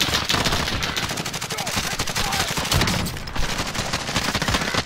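Rapid automatic gunfire from the Warzone video game crackles in dense, loud bursts almost continuously, with sharp individual shots and a brief lull before firing resumes.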